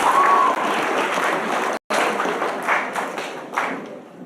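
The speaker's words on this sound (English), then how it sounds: "We will give them a round of applause in their absence." An audience at an awards ceremony claps steadily in a room, a dense patter of applause with a brief cut partway through, continuing without voices.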